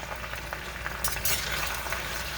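Potatoes and onions frying in an iron skillet, a steady close sizzle broken by a scraping, clattering burst as the spatula flips them, then the hiss carries on.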